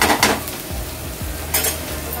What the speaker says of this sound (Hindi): सब्जी बहुत अच्छे से फ्राई हो चुकी है